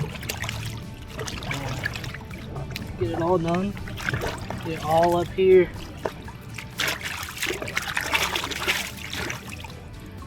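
Water trickles and splashes softly as hands are rinsed after scrubbing with fisherman hand scrub on a boat. Light dribbling runs under people talking close by.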